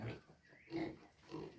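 A sow with newborn piglets at a pig farm in Assam, heard in the early morning, gives two or three soft, low grunts spread across a short stretch of quiet, close by and faint.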